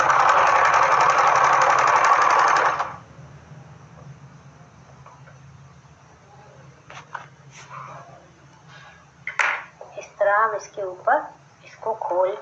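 A sewing machine runs a seam on a salwar for about three seconds, a loud steady buzzing whir that stops abruptly, followed by quiet handling sounds and someone talking.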